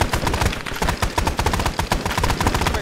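Rapid, sustained automatic gunfire from an enemy vehicle in the military video game Arma 3, dense close bursts of shots filling the whole stretch with a steady rattling rhythm.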